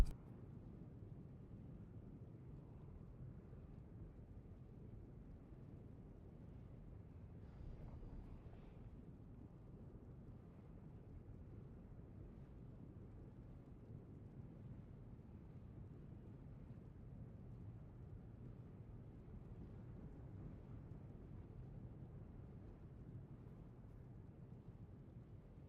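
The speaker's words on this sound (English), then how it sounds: "So I thought I could hear rain, and thinking, oh, why can I hear rain? It's so loud." Steady rain drumming on kitchen skylight windows, a constant broadband hiss with low rumble that persists evenly throughout.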